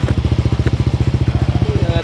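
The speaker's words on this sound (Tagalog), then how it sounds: "narinig nyo na yung motor" A motorcycle engine idles close by in Dasmariñas with a steady, rapid chugging pulse, loud and continuous.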